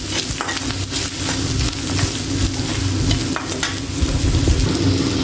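Vegetables being stirred and fried with salt and turmeric in a pan, a steady sizzle with scraping stir strokes throughout, close and moderately loud, no talking.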